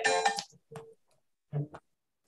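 A phone rings with an incoming WhatsApp call during a lecture: short tonal chiming bursts separated by silent gaps, close and moderately loud.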